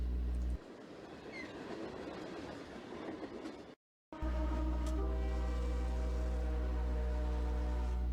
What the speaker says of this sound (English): UP 7843, and just 22 cars make up this train